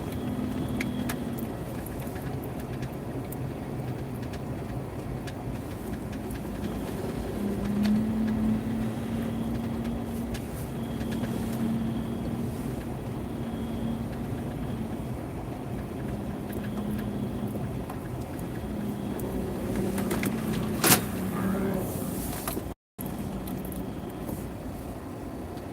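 Car pulling in to park, heard from inside as a steady low engine and road rumble with a faint jingle near the end and a brief dropout shortly after, with no talking.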